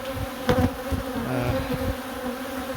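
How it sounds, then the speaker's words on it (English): Dense swarm of honeybees buzzing around a large hive exposed on a tin roof, a steady close drone with louder swells as agitated bees pass near. "The bees are obviously quite frustrated with us at the moment"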